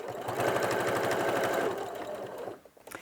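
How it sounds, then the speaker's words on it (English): A sewing machine stitches bunting pennants with a steady, close, rapid mechanical run that holds for about two seconds, then slows and stops. "I'm sewing about halfway down the centre, so I know that my pennant is going to be trapped inside."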